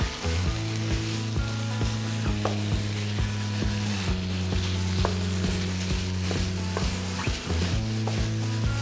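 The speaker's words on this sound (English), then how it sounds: "So we'll put our ground beef in next. Using about 500 grams today." About 500 grams of ground beef sizzle and fry steadily in a pan for a Filipino picadillo, with a constant close crackle and occasional light scrapes and clinks of a utensil.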